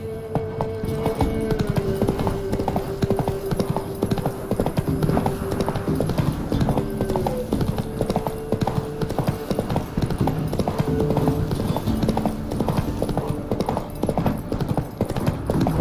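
Horse hooves gallop in a fast, steady clip-clop rhythm in The Witcher 3, loud and continuous throughout, with a few faint whinnies and no talking.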